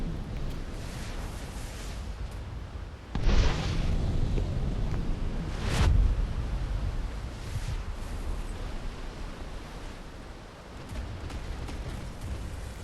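Nuclear missiles strike enemy ships during a submarine battle in the game MW2, heard as a sudden deep rumbling blast followed by a second booming impact, with roaring noise sustained between and after.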